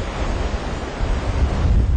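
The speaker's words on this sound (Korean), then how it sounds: "파도도 아까보다 아침보다 훨씬 거칠어지고 바람도 많이 세졌거든요" Rough ocean surf and strong wind batter the coast of Batanes island in the Philippines, a loud, continuous roar of crashing waves with wind buffeting the microphone.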